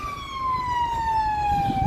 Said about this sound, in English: What's a live stream without sirens?